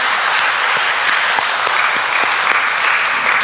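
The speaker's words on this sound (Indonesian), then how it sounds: "bisa kita beri aplaus sekali lagi untuk mereka" Dense, sustained applause from a congregation inside a church, many hands clapping steadily and loudly for a visiting choir of blind singers, filling the room without a break.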